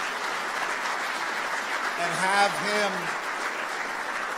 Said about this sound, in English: So I want to give a round of applause in memory of Delano